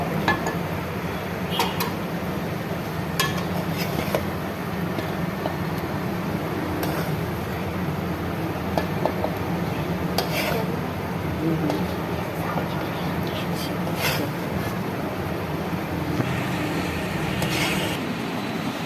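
Karahi gosht is served into a dish with metal utensils, with clinks and scrapes of cookware over a steady background hum while someone talks.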